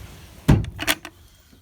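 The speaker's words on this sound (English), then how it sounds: "I waxed the underside of the drawers with some Howard's beeswax stuff, and the inside too, so it slides pretty easy" A wooden drawer in a carpenter's work truck, its underside and inside waxed with Howard's beeswax, slides open in one short, smooth run with a couple of quick knocks near the end, close by and with no talk.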